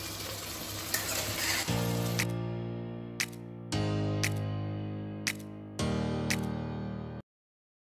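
Mutton sautés in fried onions for Hyderabadi biryani in a pressure cooker, a close hiss that gives way to loud sustained tones with sharp clicks, then cuts to silence.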